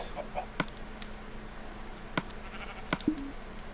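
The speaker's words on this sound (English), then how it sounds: "Mr. Baba Black Sheep, or White Sheep. You might as well just stay in there." A sheep in a video game lets out one short bleat near the end, after a few sharp clicks, over a low steady hum.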